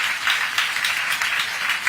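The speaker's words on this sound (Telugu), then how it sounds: "గట్టిగా అందరూ కూడా చప్పట్లు కొట్టి అభినందించండి" A large crowd at a public political gathering breaks into dense, steady applause, a continuous wash of many hands clapping at once.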